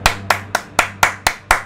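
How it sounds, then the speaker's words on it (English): Hands clap seven times in a quick, even rhythm, each clap crisp and close with nothing else around it. "If you see me clapping, you know I'm in."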